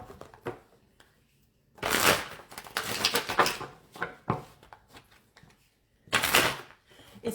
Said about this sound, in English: It's fun watching us shuffle cards, isn't it?